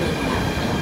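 A metro train passes at a station in Greece with a loud, continuous rail rumble and wheel noise filling the brief moment, with no voices.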